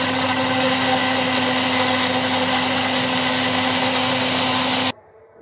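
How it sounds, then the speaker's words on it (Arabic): A blender whirs loudly and steadily, blending boiled carrots and orange peel, then cuts off abruptly near the end. "بس أما أضربه في الخلاط الأول."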